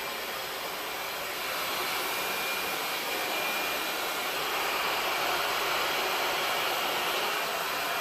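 A hair dryer blows steadily from underneath the hair to lift it at the roots. The airflow is a continuous broadband whoosh, fairly close and constant, with no voices over it.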